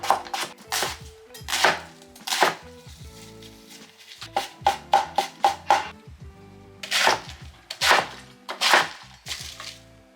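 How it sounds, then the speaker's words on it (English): Vegetables being cut on a cutting board on a small kitchen counter during Japanese home cooking, with a knife striking the board in sharp, close, uneven bursts of rapid chops broken by short pauses. "Cut all the vegetables."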